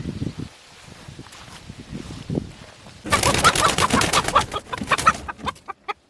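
Chickens cluck and squawk loudly up close, with a rooster among them, over a person's voice murmuring and scattered rustling.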